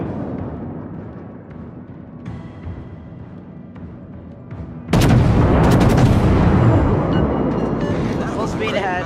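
Naval artillery fires in a World of Warships battle: a sudden loud boom erupts midway and rolls on as heavy rumbling, following a quieter stretch of ambient hum with faint clicks.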